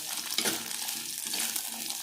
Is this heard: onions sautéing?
yes